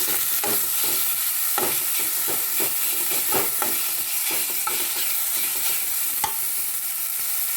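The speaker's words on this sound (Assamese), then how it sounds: "এইখিনি ভাজি ল'ম।" Ginger and garlic sizzle steadily in hot oil, with a spatula scraping and tapping the pan in an uneven rhythm.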